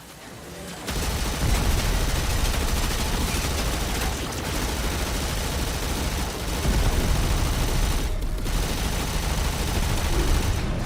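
Ship weapons firing in Warframe, a sustained loud barrage of rapid booming shots that continues almost without a break for about ten seconds after a brief quiet opening.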